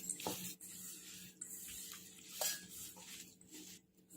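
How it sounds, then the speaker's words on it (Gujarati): Amaranth flour is mixed into bhajiya batter by hand in a bowl. The stirring gives soft, intermittent scrapes and light clinks at low volume. "હવે મિક્સ કરી લઈશું બધું આ રીતે"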